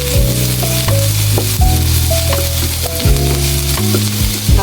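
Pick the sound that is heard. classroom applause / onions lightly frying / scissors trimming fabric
onions lightly frying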